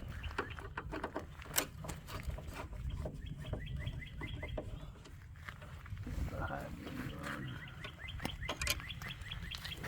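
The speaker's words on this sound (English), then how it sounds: "Hear those birdies chirp" Small birds chirp in repeated quick trills outdoors on a cold spring day, moderately distant, over a steady low rumble and some background voices.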